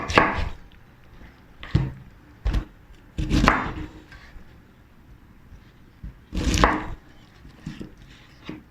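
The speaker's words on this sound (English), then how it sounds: "Then cut the pineapple into small cubes." A knife cuts fresh pineapple into small cubes on a board, making sharp chopping thuds in irregular bursts with quiet pauses between them, close and clear.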